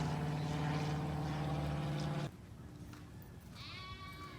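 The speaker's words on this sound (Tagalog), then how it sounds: "Ito po yung ibang tupa, palabas pa lang." Sheep bleat as the flock heads out, a loud sustained low bleat over the first two seconds, then a quieter stretch with a thinner higher call near the end, against outdoor farm ambience.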